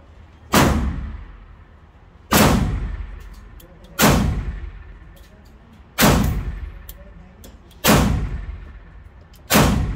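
Ruger 57 pistol fired at an outdoor range: six sharp, loud single shots spaced roughly every two seconds, each snapping hard and decaying quickly, with faint metallic clinks between them.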